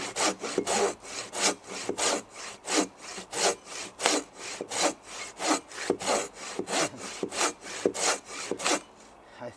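A Silky BigBoy 2000 folding hand saw cuts through a tree trunk in steady, even back-and-forth strokes, each rasping pass rising and falling in a regular rhythm, close and clear with no talking.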